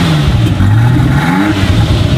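A Ferrari F40 hypercar engine revs up loud and close, a steady throaty roar with rising and falling pitch and no voices over it.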